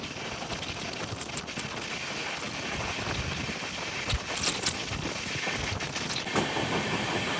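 The Ratnachal Superfast Express, a WAP-7 hauling LHB coaches, runs along the main line with a steady, broad rumble and occasional rattles and clacks, heard continuously without talk.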